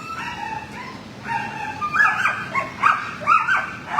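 A dog at an animal shelter gives a run of whimpers, yips and short whining barks, close by and shifting in pitch over a few seconds with no talk.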